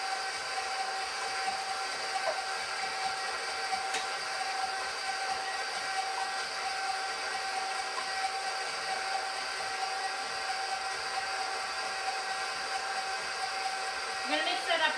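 An electric mixer beats pumpkin cookie batter with eggs, giving a steady, loud motor whine with a constant pitched hum that runs unbroken for the whole stretch.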